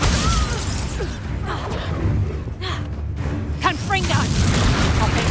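A Bombarda explosion spell detonates in Hogwarts Legacy, a loud sustained rumble of booms and shattering debris with whooshing and clattering mechanical sounds over several seconds.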